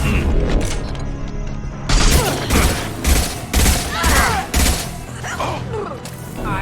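The concussive shot ability fires in the Mass Effect video game amid a firefight, with loud repeated blasts and crashes layered over game sound, and voices speak during it.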